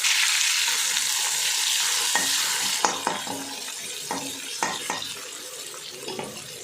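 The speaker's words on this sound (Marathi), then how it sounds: "आता कांदा चांगला परतून घ्यायचा" Chopped onion sautéed in a pan, starting with a loud rushing sizzle like running water, then a series of spoon scrapes and taps as it is stirred, up close and with no voices.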